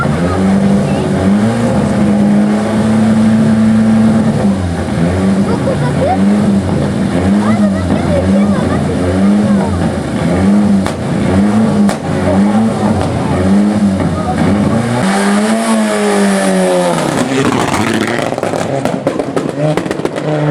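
A Renault 21 Europa Cup race car engine roars loudly and continuously during a historic hill climb, its pitch rising and falling through gear changes as it accelerates, with a brief lull near the end.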